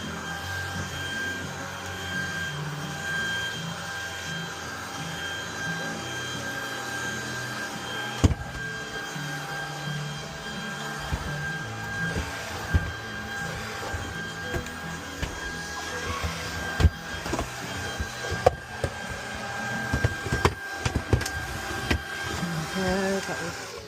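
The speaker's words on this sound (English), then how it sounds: "sofa hoover." A vacuum cleaner hums steadily while hoovering a sofa inside a canal boat. Nozzle bumps and clattering scrapes grow busier toward the end of the long, close drone.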